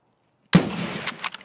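A single sharp gunshot in Escape From Tarkov bursts out of silence midway, followed by a short echoing tail and faint scuffling.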